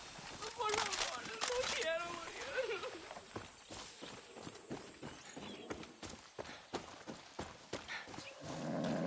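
A horse's hooves clop along in an uneven, hurried rhythm in the video game Far Cry 6, with a brief vocal sound near the start.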